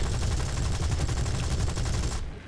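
Rapid bursts of aircraft guns from a Boomerang fighter in the War Thunder video game, a dense and loud stream of shots that cuts off abruptly near the end.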